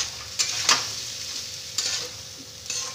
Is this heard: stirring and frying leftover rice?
yes